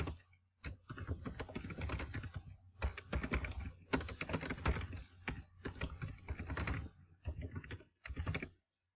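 Fingers type on a computer keyboard in rapid clustered bursts of close, crisp key clicks, broken by a few short pauses, with no talking.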